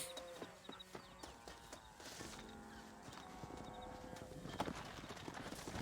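A horse walks and trots on a dirt path in the Western video game Red Dead Redemption, the hooves making steady, fairly quiet clip-clopping over a bed of game music and ambience, with no talk.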